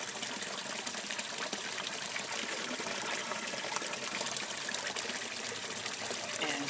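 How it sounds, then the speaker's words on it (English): Filtered water, cleared of silt and sand by a sand filtration system, flows out of the end of a pipe in a steady, even trickling stream that carries on without a break. "at the end of our pipe, the water coming out the other side is extremely clear."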